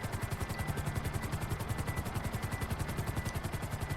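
A helicopter in GTA 5 thumps its rotor in a fast, steady chop, loud and continuous, with a high engine whine layered over the beating blades.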